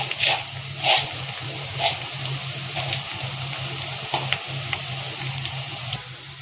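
Sliced onions fry in hot oil in a home kitchen, browning for an iftar meal. The sizzle is a steady, close hiss broken by scattered sharp pops and crackles.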